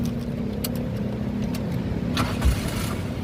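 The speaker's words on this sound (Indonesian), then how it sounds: "Nah, ini kita coba nyalakan mobil ya." A 2002 Daihatsu Taruna 1.6 FX manual is started, with a short cranking burst settling into a steady, close idle hum.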